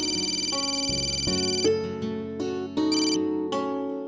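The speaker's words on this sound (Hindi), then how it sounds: "प्रिया का फोन" A mobile phone ringtone plays a bright, repeating electronic melody, loud and close, with no voices over it.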